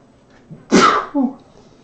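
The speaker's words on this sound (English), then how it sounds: "Sneeze." A single sneeze, sharp and close, bursting out against a quiet background with a short second gasp trailing just after, heard during a drawing session.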